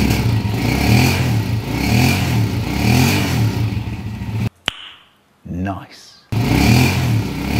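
A rock crusher machine's engine in Sta. Maria, Pangasinan runs steadily and smoothly, a loud rhythmic throb that cuts out briefly midway before resuming, with people talking over it.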